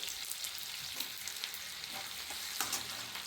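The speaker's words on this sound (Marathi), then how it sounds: "त्यानंतर लसूण आणि जिराची पेस्ट घालायची" Garlic and cumin paste dropped into hot oil with mustard seeds in a kadhai, giving a strong, steady close-up sizzle with occasional stirring scrapes, no voices.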